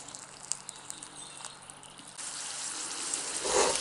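Potato slices frying in oil in a pan for pommes de terre Anna, giving a soft, steady sizzle with faint crackles that swells louder toward the end, with no talking.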